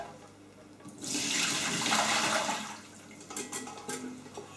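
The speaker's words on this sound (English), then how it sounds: "My bread pan now is nice and warm, but I'm going to throw that water away." Warm water poured out of a bread pan in a single rushing splash lasting a couple of seconds, followed by a few small drips and clatters.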